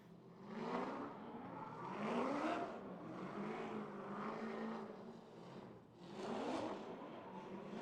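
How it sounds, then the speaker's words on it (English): A BMW drift car fitted with a Dart 427 engine at a drift competition: a loud, steady engine roar that swells and fades in several surges as the car passes, alone with no talk. "Maybe the best car, the best sounding car on grid. With that Dart 427 under the hood,"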